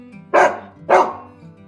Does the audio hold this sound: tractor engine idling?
no